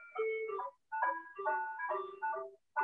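A home phone's musical ringtone chimes out a little electronic melody in repeated bursts, soft and steady with short gaps between phrases.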